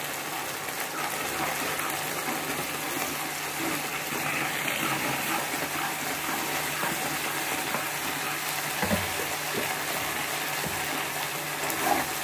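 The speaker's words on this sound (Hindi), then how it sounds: "उसमें थोड़ा सा पानी मिला के मैं इसको भी डाल दूंगी" Water mixed with ground spices is poured into a hot pan of boal fish curry, giving a steady gushing hiss and sizzle that runs unbroken throughout, with no talking.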